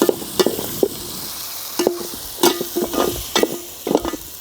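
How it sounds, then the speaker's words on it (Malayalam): Mutton bone marrow is stirred with onion and masala in a pan, giving a close, loud sizzle broken by repeated scrapes and knocks of the spoon against the metal in an uneven rhythm. "നമ്മുടെ ബോണൊക്കെ എടുത്ത് ഉള്ളി ഇടാം, മസാലയിൽ ഇടാം, നന്നായി ഒന്ന് ഇളക്കിയെടുക്കാം"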